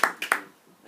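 A few brief claps from a small audience, three quick bursts of applause in the first third of a second that fade into room quiet.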